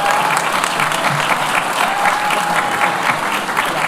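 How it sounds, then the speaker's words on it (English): Steady, dense applause fills a graduation award ceremony for continuing and professional studies, a crowd clapping close and continuously throughout without pause. "So another round of applause for."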